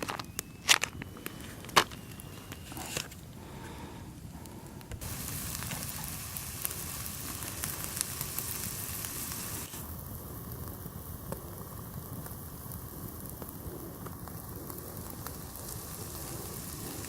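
Sausages sizzling in a pan at an off-grid cabin, a faint, steady crackling hiss that runs continuously throughout without voices.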